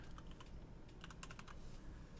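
Fast typing on a computer keyboard, a short burst of light key clicks close by over faint steady background hum.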